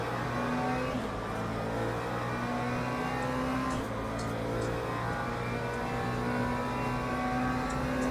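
Porsche GT3 race cars lapping Laguna Seca in the racing game Le Mans Ultimate, a steady engine drone at constant revs with a couple of gear-shift dips, running continuously with no talk.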